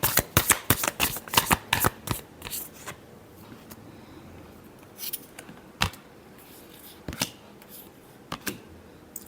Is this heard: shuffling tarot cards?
yes